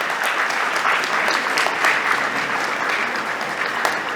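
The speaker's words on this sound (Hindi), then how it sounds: "जोरदार तालियों के बीच स्वागत करेंगे अजय जी का।" A crowd at an award felicitation event applauds a guest taking the stage, continuous dense clapping at a steady moderate level across the whole stretch.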